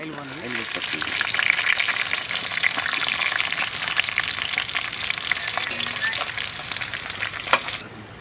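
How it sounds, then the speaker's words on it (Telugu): Paneer pieces frying in oil for paneer biryani, a steady, close hiss and crackle with occasional stirring scrapes, ending in a brief clatter, with a voice murmuring faintly at moments. "పన్నీర్ అయితే ఈ కలర్ వచ్చేదాకా ఆయిల్లో వేయించుకోండి"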